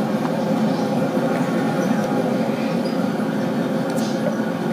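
A subway train roaring past in a station in the video game Spider-Man 3, heard as a steady, loud, dense mechanical rumble that fills the whole moment without letup.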